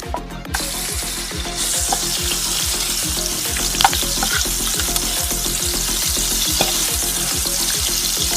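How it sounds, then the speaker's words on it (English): Butter melting and sizzling in a hot pan while a homemade pan pizza with vegetables and tomato sauce cooks, a steady close frying hiss with soft crackles and faint rhythmic pops throughout. "now butter is starting melting"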